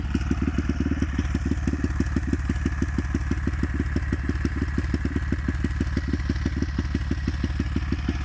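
A Honda MSX 125 motorcycle with a scrambler-style exhaust idles steadily and loudly, its exhaust thumping in a fast, even pulse throughout with no other sounds.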